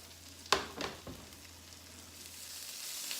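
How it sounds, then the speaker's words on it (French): Soft sizzling of small tomcod fish frying in butter in a pan, with a couple of sharp clatters early on and a steady crackle building afterward. "vous entendez probablement le crépillement là, des poissons là, qui cuisent dans le beurre"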